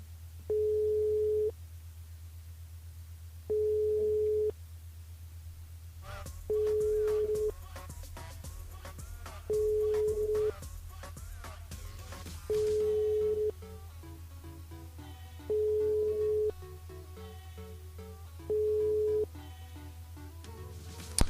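Telephone busy signal during an unanswered call at a live radio broadcast, a steady tone pulsing in regular beeps over a constant hum, with a burst of background music and noise midway.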